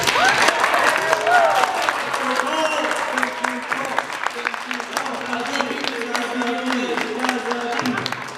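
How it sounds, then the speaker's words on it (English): A convention audience at HarmonyCon 2024 gives a round of applause, a thick, sustained clatter of many hands with cheering voices and crowd chatter mixed in. "Can we please give Cole a round of applause?"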